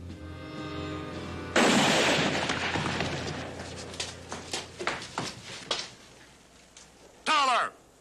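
Gunfire in a 1967 Bonanza Western episode: a sudden loud shot that rolls on in echo, then a run of sharp, evenly spaced reports at medium distance, ending in one more burst, with shouting voices between them.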